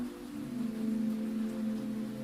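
Rain drums steadily on a canvas awning outside a laundromat at night, a soft constant patter with a low steady hum underneath, quiet and unbroken throughout.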